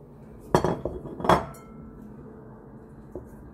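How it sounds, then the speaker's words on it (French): Mashed banana and fine corn flour batter stirred in a bowl, with two loud clattering scrapes of a utensil against the bowl near the start and a faint knock later. "Nous mélangeons le tout."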